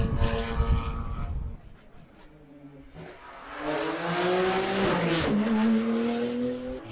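A rally race car on a Montenegro course approaches, its engine rising in pitch and growing louder as it nears and passes, with a brief tire skid.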